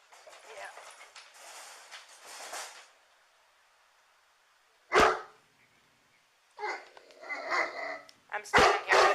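A caged dog barks in loud, sharp bursts during a police walkthrough of a house, with people talking around it and a few startling thumps.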